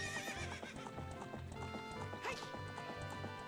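A horse in the video game The Legend of Zelda: Ocarina of Time (1998) gallops with rhythmic clip-clop hoofbeats and lets out a neigh, a continuous game-audio sequence with musical tones behind it.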